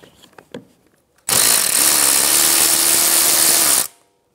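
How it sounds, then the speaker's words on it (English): A power tool spins out the 10mm ABS sensor bolt on a 2013-2017 Honda Accord front knuckle, one loud sustained whirring burst of about two and a half seconds after a few faint clicks. "Remove the 10mm bolt for the ABS sensor."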